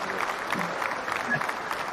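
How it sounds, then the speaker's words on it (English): Short, soft applause from a small audience at a live morning chat session, faint and scattered, lasting only a moment. "That deserves a little bit of applause there."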